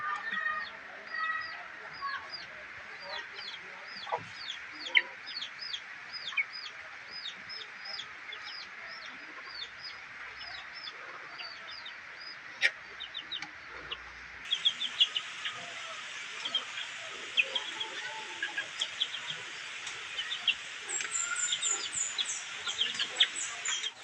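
Young chicks being treated for cough and cold chirp and peep continuously in a dense, high-pitched chorus, with scattered clucks close by and a slight rise in intensity partway through.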